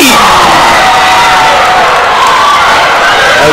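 A women's college basketball crowd roars and cheers after an and-one play, loud whoops and shouts filling the gym continuously at close range.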